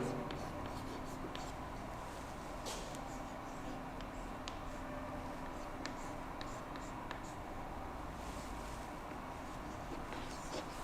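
A pen scratches equations onto paper during a physics lecture on Fourier series, a steady run of faint, close scribbling strokes with short taps over a constant background hiss.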